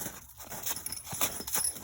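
Soft clip-clop of a Shire horse's hooves stepping at a slow walk, faint and close, with no talking.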